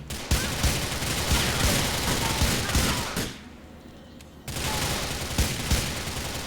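Rapid gunfire in the video game GTA: The Ballad of Gay Tony, dense bursts of shots that drop out briefly near the middle and then resume just as loud.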